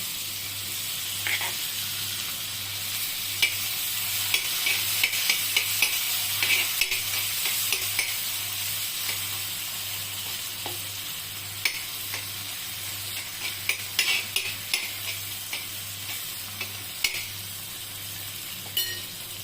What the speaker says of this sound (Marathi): सगळ्यात पहिल्यांदा आपण त्याच्यात एक बटर घालून घेऊया आणि ह्याच्यात ही आपण जी भाजी बनवली आहे ती थोडी घालून परतून घ्यायची तव्यावर